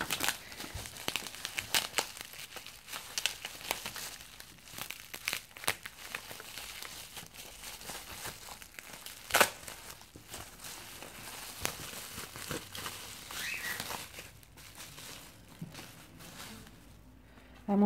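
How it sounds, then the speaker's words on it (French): A gift being unwrapped, with close, continuous paper crinkling, rustling and occasional tearing in irregular bursts over about eighteen seconds, quiet and without speech. "commence à déballer si tu veux"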